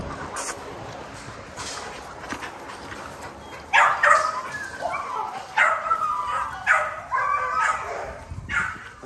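Blue XL pitbulls in a kennel, barking, yipping and whimpering in several bursts, with short sharp bark-like cries. The dogs sound fairly close over a steady background, and the noise grows busier toward the end.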